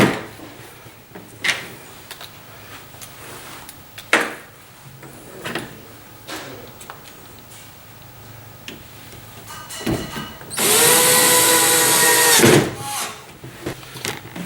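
A power drill drives a screw into the rack of an under-counter garbage drawer: scattered knocks and wooden clatter lead up to one loud, steady whirring burst of about two seconds near the end.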